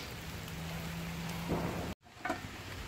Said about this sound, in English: it is just a nice rainy day at the campground.